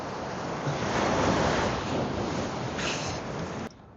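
Ocean waves surge and break along the shore in a steady broadband roar with wind buffeting the microphone, ending abruptly near the close.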